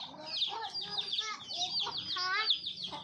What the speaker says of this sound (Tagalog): ito yung mga manok na hulo guys. Hulo.